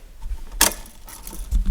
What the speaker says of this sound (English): You just hate it when your keys just get inside your key rings and everything.